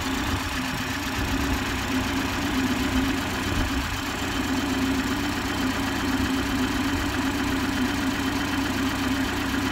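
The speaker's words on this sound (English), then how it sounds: "That's the engine." A 2019 BMW 330e M Sport plug-in hybrid, with the bonnet open after a recent service, idles with a steady, even engine hum heard close up for about ten seconds without talk.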